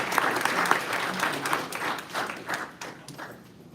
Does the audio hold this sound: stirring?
no